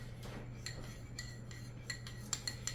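A utensil scrapes and clinks against a pan while stirring honey garlic tenders in a Ninja Speedi, a few light, irregular strokes, quiet and close over a low steady hum.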